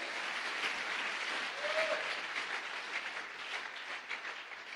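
A church congregation applauds at a convention for men, a dense, sustained wash of clapping heard from amid the crowd that holds steady for several seconds.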